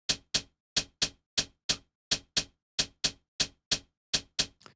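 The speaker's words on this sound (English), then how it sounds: "If I play this without the effects, my hi-hat sounds like this." Dry, unprocessed hi-hat hits repeat in a loose, slightly unquantized rhythm, each a short bright tick with a quick decay and even loudness, heard alone.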